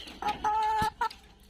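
Chickens cluck in short, loud bursts close by, with a few separate calls and brief gaps between them, as hens kept at home are shown.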